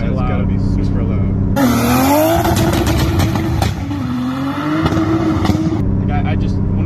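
A loud turbocharged 1.5JZ engine swapped into a BMW E46 M3 revving hard, its roar rising and falling with tire noise, while people talk over it.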